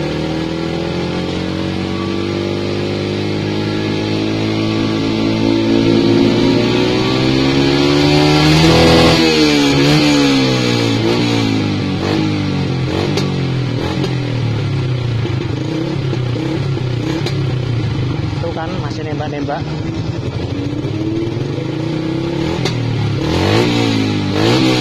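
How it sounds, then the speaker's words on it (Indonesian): A Yamaha Byson motorcycle fitted with a Tiger Revo exhaust revs loudly and continuously at close range, its engine note rising and falling through repeated throttle blips with some popping on the exhaust. "Kalau gas kecil mah nembak, kalau gas besar enggak nembak dia."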